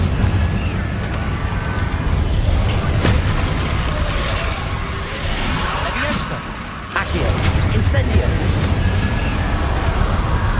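Confringo spell blasts in Hogwarts Legacy land as several deep booming explosions spread across a few seconds. They sit within continuous game action and noise.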